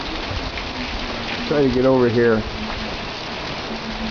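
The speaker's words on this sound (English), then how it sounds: "This is our monsoonal rain. As you can see, it's raining quite well while the sun shines" Steady monsoon rain pours down while the sun shines, a dense even hiss that persists throughout, with a voice speaking briefly in the middle.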